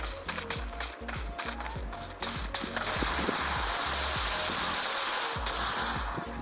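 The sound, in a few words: footsteps in a video game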